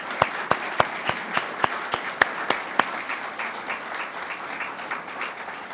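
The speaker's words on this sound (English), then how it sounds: "Let's give them a round of applause anyway." Applause for a state championship crew team at an Arlington school ceremony, starting with a few sharp, distinct claps that soon blur into steady, moderate clapping from the crowd, with no talking over it.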